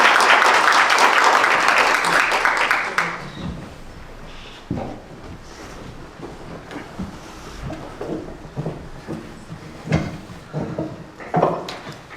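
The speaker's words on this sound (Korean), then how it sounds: "큰 박수로 환영해 주시면 감사하겠습니다." A church congregation gives a short burst of warm applause to welcome a speaker, loud for about three seconds before dying away into scattered claps, shuffling and room noise.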